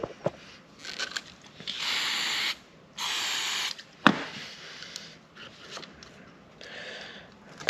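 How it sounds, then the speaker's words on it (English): Two long hissing bursts from an aerosol can of silicone spray, each about a second, with clicks and handling noises around them and a fainter spray later. "Silicone spray."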